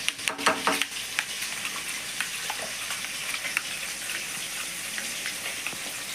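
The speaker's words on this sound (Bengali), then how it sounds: "আমার সব মাছ খুব সুন্দরভাবে ভাজা হয়ে গেছে।" Fish frying in oil in a pan for a home-style Bengali fish curry, giving a continuous close sizzle with scattered pops and a few clattering knocks near the start.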